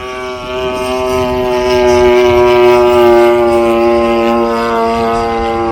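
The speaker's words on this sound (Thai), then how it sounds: "เสียงเครื่องยนต์เบนซินนี่มันเป็นเอกลักษณ์นะครับ" A 35 cc petrol engine powers a radio-controlled Beaver floatplane model, giving a loud, steady buzzing drone that swells slightly in the middle as the aircraft passes and then eases off.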